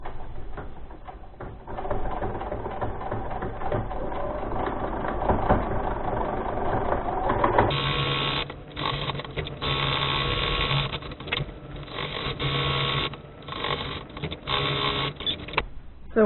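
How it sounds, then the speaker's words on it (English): A sewing machine runs steadily while stitching a fabric face mask, back-stitching over tubing placed inside; a continuous mechanical whir that grows louder and busier partway through, with no talking. "When you sew over the top of your tubing that you placed in there, you'll want to back stitch over it to hold it more securely in place."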